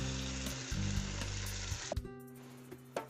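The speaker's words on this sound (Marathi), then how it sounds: "बाकीचे लाडूही आपण तळून घेऊ।" Valiv laddus deep-frying in hot oil in a kadhai, a steady close sizzle with a louder bubbling burst near the start and a few soft clinks, no talk.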